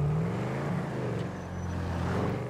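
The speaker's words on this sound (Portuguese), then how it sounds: "Só escuto os barulhos do tubo." Car exhaust and engine in the video game GTA V, a steady low drone with a faint pitch rise, loud and close throughout.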